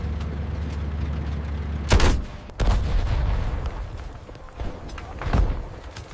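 Machine gun fire on a North African desert battlefield, with sharp bursts of shots breaking out over a low engine-like rumble, several loud volleys spaced irregularly.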